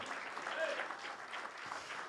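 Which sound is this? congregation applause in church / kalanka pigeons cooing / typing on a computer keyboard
congregation applause in church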